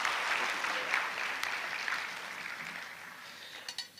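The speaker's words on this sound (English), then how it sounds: "please give him a round of applause for adding a few more to it" An audience at a formal induction ceremony applauds steadily, a dense wash of clapping that holds for about four seconds and slowly thins toward the end.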